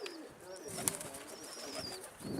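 A pigeon cooing lightly as wings flap briefly in a short burst, with faint background noise around it.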